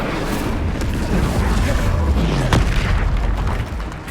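The Incendio fire spell from the video game Hogwarts Legacy goes off as a sustained, rumbling whoosh of flame with a low boom that swells midway and then fades, loud and with no voices.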